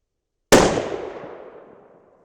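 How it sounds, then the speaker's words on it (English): A single sharp rifle shot from a Thompson Center Compass in 6.5 Creedmoor cracks out after silence, then rolls off in a long fading echo across an open range. "let's go ahead and do a quick 3-shot group at the top dot"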